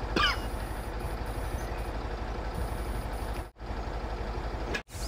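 A Hummer truck idling and rumbling in MudRunner, a steady low engine drone with a faint high whine above it, broken twice by brief dropouts.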